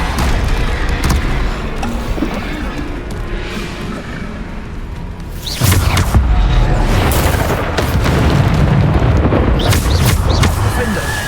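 Spell blasts from the Bombarda charm in Hogwarts Legacy, booming impacts amid a continuous loud battle din, with a voice speaking over them.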